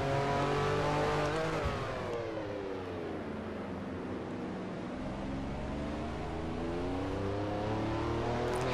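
A race car engine in the NASCAR Racing 2003 video game drones steadily while its pitch drops through downshifts and then climbs again, loud and continuous with no talk.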